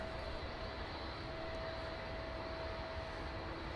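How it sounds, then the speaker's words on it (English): A Spitfire flies low over the M1 motorway near the runway threshold at East Midlands Airport, its engine a steady, unbroken drone that holds at even loudness throughout, with no voices. "Spitfire just over the M1 and the runway threshold there"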